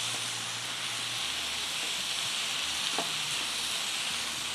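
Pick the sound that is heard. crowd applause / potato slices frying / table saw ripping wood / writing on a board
potato slices frying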